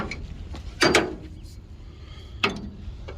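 A ratchet tightens exhaust pipe fasteners on a 1965 Cushman Truckster with a custom dual exhaust, giving two brief clicking bursts of metal mechanism, close and fairly quiet, separated by a pause.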